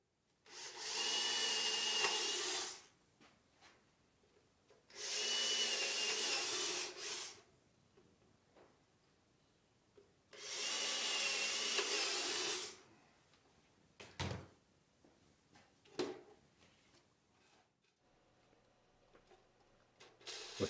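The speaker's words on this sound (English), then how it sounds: "I drilled a hole in each corner of the area that I need to cut out of the top." Three bursts of a power drill boring holes into a tenor guitar top, each roughly two to three seconds long with short pauses between, followed by quieter handling clatter and a few knocks close by.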